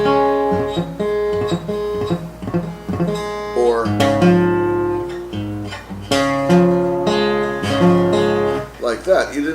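An acoustic guitar chord strummed badly by a beginner, giving buzzy, muddy tones instead of a clean ring, with several uneven strums close up and a brief spoken word.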